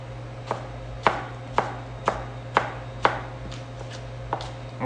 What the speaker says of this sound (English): Rock that knife through it, don't just chop straight down.